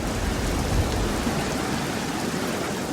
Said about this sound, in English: some much-needed rain soaks the town